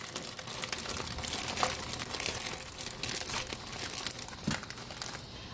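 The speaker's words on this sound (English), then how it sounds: "I like to put it into a resealable bag, just a Ziploc bag" Plastic Ziploc resealable bag crinkling and rustling up close, a steady dry crackle with a few sharper crunches, no talking.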